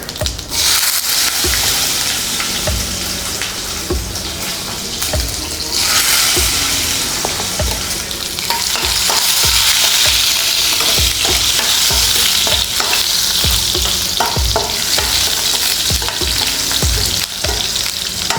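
Cumin seeds, then ginger and garlic, fry in hot oil in a pan for squid masala, giving a loud, steady sizzle with the scrape and clack of a spoon stirring throughout.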